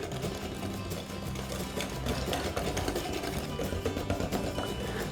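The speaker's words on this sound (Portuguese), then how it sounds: "Então é só bater bem os ovos, é rapidinho, coisa de 1 minutinho." Eggs for a mimosa cake batter are beaten steadily in a bowl, a continuous, close whirring and rapid clicking rhythm that goes on without pause and without speech.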